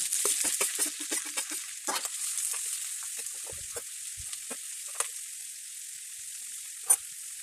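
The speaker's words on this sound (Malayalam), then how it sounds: "എണ്ണ ചൂടാകുമ്പോൾ നമുക്ക് വറുക്കാൻ ആവശ്യമായ സവാള ഇട്ട് കൊടുക്കാം" Onions frying in hot oil in a pan give a steady bright hiss, with crackles and spits that are busiest at the start and gradually thin out, plus a sharp pop near the end.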